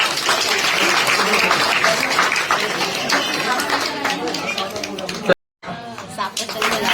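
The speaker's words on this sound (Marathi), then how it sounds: "टाळ्या वाजवा." A village crowd at a joint Buddha and Ambedkar Jayanti gathering claps together, a dense sustained wash of applause mixed with chatter, thinning toward the end and cut by a brief dropout.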